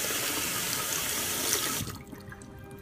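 Running tap water soaks a natural boar bristle shaving brush in a barbershop, a steady close rushing stream that cuts off near the end, leaving a quiet room.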